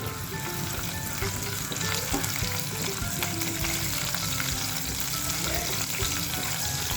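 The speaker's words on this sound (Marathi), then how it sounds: "आता याच्यामध्ये घालायचा लसूण बारीक चिरलेला आणि हिरवी मिरची तीन मिरच्या घेतल्यात कारण भाजी थोडीच आहे हे चांगलं परतून घ्यायचं" Finely chopped garlic and three green chillies sauté in a pan for drumstick-leaf bhaji, a steady close sizzle with faint scraping of a spoon stirring, no voices.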